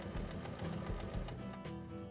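A sewing machine stitches a seam on a double bag, its needle chattering in a quick even rhythm, close but quiet.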